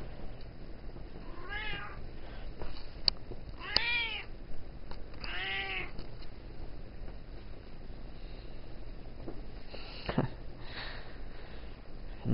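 A Bombay cat meows repeatedly, with several drawn-out, rising-and-falling calls spaced across a steady indoor background hum, near and fairly loud.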